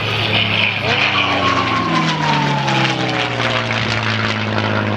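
Boeing B-17 bomber aircraft with its wheels down flying past at an airshow, a loud, steady piston-engine propeller drone with a falling pitch as it passes, under a commentator's voice.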